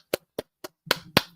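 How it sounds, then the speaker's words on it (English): Five separate hand claps, sharp and close in an uneven rhythm, the last two slightly fuller with a brief room ring after each. "Clap it up."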